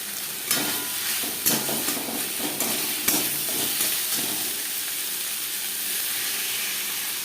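Spices frying and being stirred in a pan for a traditional Bengali fish dish, a steady sizzle broken by several sharp scrapes and knocks of a spoon against the pan, fairly close, with no talking.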